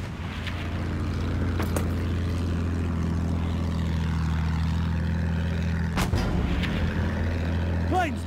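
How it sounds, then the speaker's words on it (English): An enemy propeller plane in the World War I shooter Battlefield 1 drones overhead with a loud sustained engine roar, broken by sharp bursts of gunfire or explosions in the battle. "Sighted! An enemy plane!"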